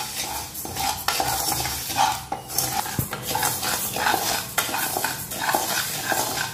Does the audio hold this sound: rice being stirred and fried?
yes